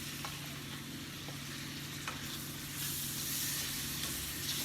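Thinly sliced large tomato sizzling in a frying pan during sandwich preparation, a steady soft hiss and crackle with occasional small pops, fairly quiet and close, with no talking.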